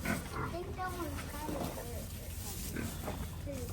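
Pigs grunt and squeal in short, scattered calls while being moved to a new pen, mixed with people talking nearby at low, moderate loudness.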